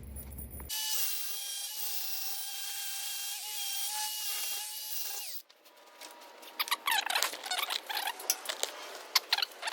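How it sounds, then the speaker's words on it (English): Harsh, steady grinding on a metal gearbox part from an RC-100 brush cutter runs loud and close for about five seconds, then gives way to uneven scraping and rattling bursts. "Maybe a little bit more grinding off at the top"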